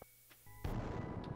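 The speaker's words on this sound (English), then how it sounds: "Let me drop a bomb here" A bomb exploding in Skull Cavern in Stardew Valley, a fairly quiet game scene that swells into a loud rumbling blast which lingers to the end.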